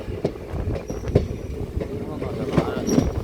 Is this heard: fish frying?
no